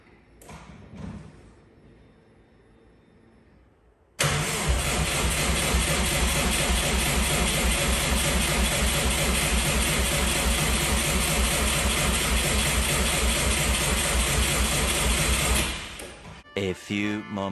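An engine at its first start fires up abruptly after a quiet stretch of small knocks and clicks, then idles loudly and steadily for about eleven seconds before cutting off, followed by a few thumps.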